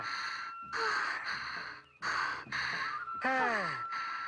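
Heavy, breathy panting from someone out of breath after running, with a few loud sighing gasps and a falling vocal tone mixed in, close and clear.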